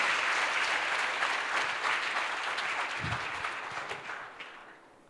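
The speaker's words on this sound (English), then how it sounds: "Let us give her a big round of applause." An audience at an alumni meet gives a steady round of applause that gradually tapers off, heard at moderate distance.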